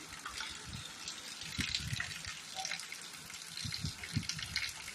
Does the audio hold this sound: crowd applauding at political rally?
no